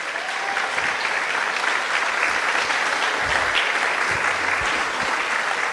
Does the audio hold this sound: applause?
yes